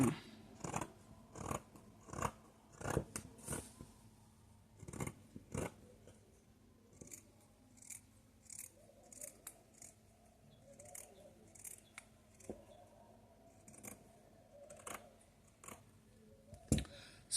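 Scissors snipping through satin fabric for an A-line skirt, a long series of crisp, close cuts in uneven bursts with short pauses, over a faint low room hum.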